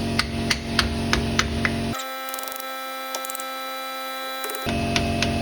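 Hammer blows on a chisel driving out a pinion seal from the rear differential of a 2010 first-generation Ford Raptor, sharp metallic strikes in a steady rhythm at the start and end, with a sustained ringing tone between them.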